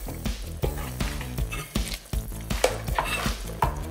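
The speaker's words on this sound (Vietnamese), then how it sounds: "Lúc này mình sẽ nhỏ lửa xuống một chút và mình cho tôm vào." Shrimp frying in a hot pan as they are stirred, with a steady sizzle broken by repeated scraping and clanking of a utensil against the pan at close range, no voices.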